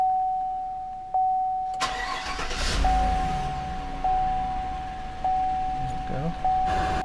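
An old car engine in a garage cranks after a steady background tone and catches, then runs at a rough idle, loud and close, while a person speaks over it.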